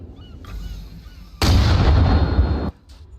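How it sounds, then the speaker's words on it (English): Mortar fire in the military game Arma Reforger: a quieter distant report, then a loud, heavy blast that rumbles for over a second before cutting off abruptly. "Mortars are going."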